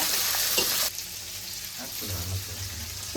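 Cumin seeds and whole spices frying in oil for a hotel-style donne biryani, a loud, dense sizzle that drops off sharply after the first second, leaving a softer crackle with faint stirring.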